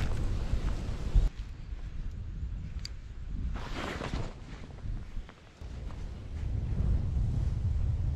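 Rough winter wind buffets the microphone on a fishing outing near open water, a rumbling, gusty roar that surges and dips, with a brief sharp knock early on and no speech.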